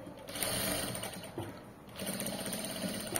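A sewing machine runs close up while stitching a hem on fabric, a steady mechanical whir with a brief slowdown midway before it picks up again. No voices are present.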